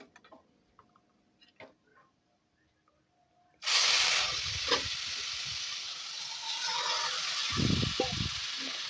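Boiled bottle gourd drops into hot oil with spice tempering and erupts into a loud, close sizzle after a few quiet clicks and taps, then keeps frying with stirring scrapes.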